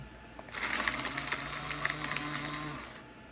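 A dense mechanical whirring and rattling starts after a brief pause and runs steadily for about two and a half seconds from an electric herb grinder.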